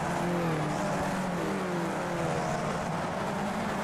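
A formula car in the iRacing sim races at the Hungaroring, its small engine sounding as a continuous buzzing drone. The pitch rises and falls as it climbs through the gears over steady mid-level background noise, with no speech.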